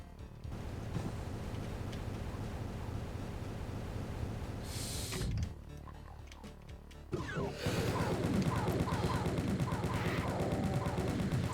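Rapid chaingunner fire erupts during an ambush in the video game Doom 2, a rattling run of shots that drops out briefly and returns with dense repeated blasts, fairly quiet against steady game background noise.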